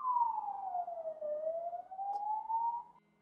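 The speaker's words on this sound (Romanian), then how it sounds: "Acum mai trece și o salvare." An ambulance siren passes outside, one clear wailing tone that sinks and rises again over about three seconds at moderate loudness, with no talk over it.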